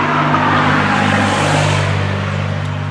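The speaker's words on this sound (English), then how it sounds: "Loud car." A loud car passes close by outdoors, a steady engine roar with a low rumbling drone that holds strong throughout and eases only slightly toward the end.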